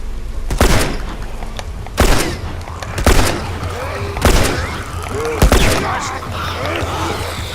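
Gunfire in The Last of Us video game: five heavy shots ring out about once a second, each a loud boom with a short tail.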